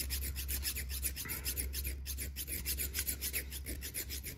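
Metal file rasping down screws seated in a CZ RDS screw jig, a steady run of quick back-and-forth strokes, close and fairly loud with no talking.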